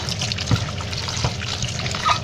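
Salted bitter gourds are swished and rinsed in water, with sloshing, dripping and a few soft thumps against the container, close by.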